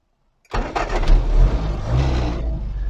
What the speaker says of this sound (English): So what I'll do now, I'll just fire the car up as I normally would.